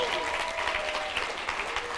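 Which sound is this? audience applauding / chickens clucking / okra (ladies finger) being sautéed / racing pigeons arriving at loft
audience applauding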